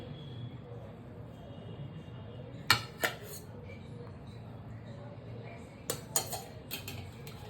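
Cooked rice being served onto a plate in a home kitchen for a simple vegetarian meal, with a few sharp utensil clinks and dish knocks in two clusters over a steady low background hum.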